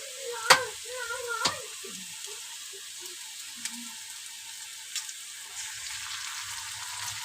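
Two sharp taps of an egg cracked into a hot pan in which chow mein tiffin is being fried, followed by a steady soft sizzle with a few faint clicks.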